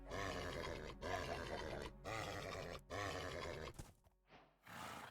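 A horse in Minecraft making a run of rough, breathy whinnies and snorts, several close bursts in a row followed by a few shorter, quieter grunts.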